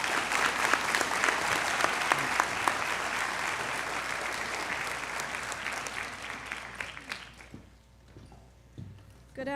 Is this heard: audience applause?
yes